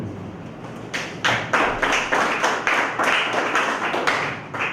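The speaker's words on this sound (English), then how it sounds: "a round of applause for our panel" An audience at a Ghana real estate professionals awards ceremony gives a round of applause, the dense clapping starting after a quiet second and holding steady and fairly close, with regular pulsing swells.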